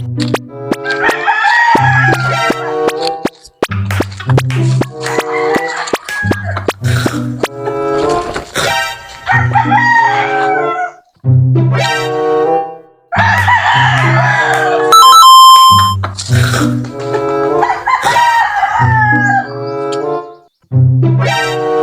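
A chicken clucks and crows loudly and repeatedly in strong, rhythmic calls that fill the whole stretch, with short breaks between bursts.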